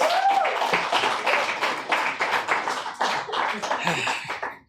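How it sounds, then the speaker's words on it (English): Audience applause for poet Matthew Cuban Hernandez at a spoken-word night, dense clapping filling the room throughout with a few whoops and voices calling out over it. "Please, round of applause for Matthew Cuban Hernandez."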